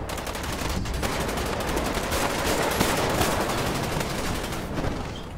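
Sustained rapid gunfire in a roleplay shooter game as players shoot at a vehicle's tires, loud, dense bursts running continuously with no pause.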